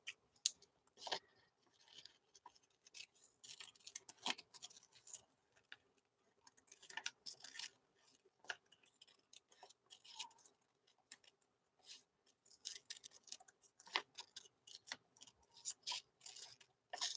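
Scissors cut something out in a run of faint, irregular snips and clicks, close but quiet, with light handling noises and no speech.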